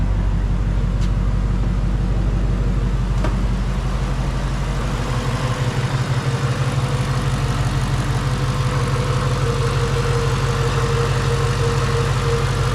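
A supercharged Ford Mustang GT with the 3V V8 idles close by, a steady deep rumbling hum that holds even and loud throughout, with no talking.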